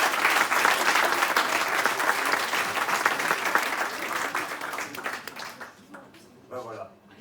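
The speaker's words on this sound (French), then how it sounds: "on peut t'applaudir très fort" A theater audience at an open-mic stage show gives a magician sustained, dense applause that swells loudly, then gradually thins and fades out, with a voice speaking briefly near the end.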